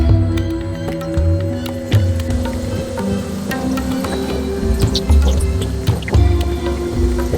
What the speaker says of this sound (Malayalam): അപ്പൊ നമുക്ക് എന്തായാലും ചിക്കൻ ഇട്ട് കഴുകാം.